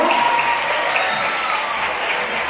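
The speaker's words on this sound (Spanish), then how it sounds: "Déjale un fuerte aplauso a ella también," A school oratory contest audience in Sonsonate, El Salvador claps for a jury member, giving a dense, even round of applause that holds at a steady level through the whole stretch with no voices over it.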